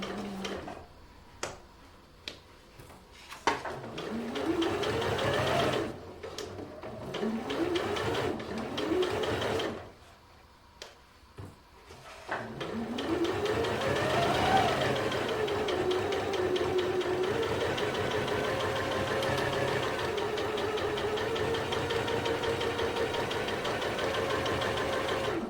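A sewing machine stitches a fabric bib in close, steady bursts, starting and stopping several times before running in a long continuous whir.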